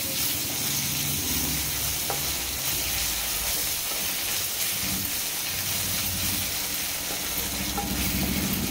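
Onions with ginger garlic paste fry in a pan for gongura chicken, a continuous sizzle and hiss with occasional stirring scrapes, steady and fairly close throughout.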